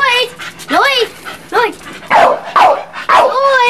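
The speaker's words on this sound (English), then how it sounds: "No barking! Sit down! Sit down!" A dog gives repeated short, loud, high-pitched yelping barks, close by and in clusters, with a person's voice scolding in between.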